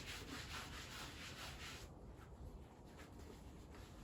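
Scratchy grooming gloves rub over a horse's coat in steady, close strokes, a soft rasping scrub repeating without talk.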